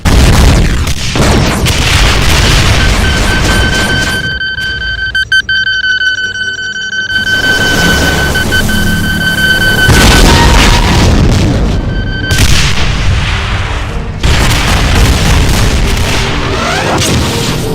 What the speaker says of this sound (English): It fires dual volleys of legendary grenades, twice the rockets and homing rockets